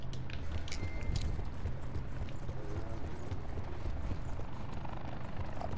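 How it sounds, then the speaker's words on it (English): A helicopter in a shooter video game drones with a steady low rotor thump and whine, close and continuous, with game effects but no talk. "Helicopter."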